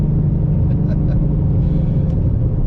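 Deep, constant rumble from a 1000hp Mustang GT engine held at half throttle, loud and near, with a voice briefly audible over the drone.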